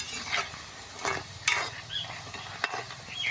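Khurma dough pieces fry in hot oil with a soft, steady sizzle, broken by occasional scrapes and clinks of a stirring utensil against the pan, close and fairly quiet.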